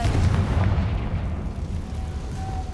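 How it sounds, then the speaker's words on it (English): A Confringo blasting spell exploding in Hogwarts Legacy, a heavy booming detonation with a deep rumbling decay that fades over a few seconds, heard alone. "Confringo!"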